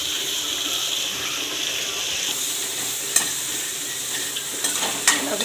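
Bitter gourd pieces go into a simmering tomato curry, which keeps up a steady hissing sizzle while a few sharp clinks and scrapes of stirring break through near the end, with no talk.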